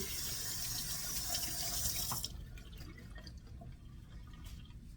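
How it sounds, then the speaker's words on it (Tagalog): Peeled potatoes rinsed under a running kitchen tap: a bright, close rush of water splashing into the sink for about two seconds, then the flow stops, leaving soft drips and faint handling sounds. "Tapos pagkatapos nyo balatan ay hugasan nyo muna."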